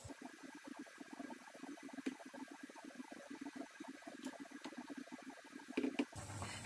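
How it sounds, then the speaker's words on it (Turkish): Pot of fig jam syrup on a stove starting to boil, giving a faint, low bubbling and popping texture with small irregular bursts and a slight rise near the end. "Tencerem kaynamaya başladı."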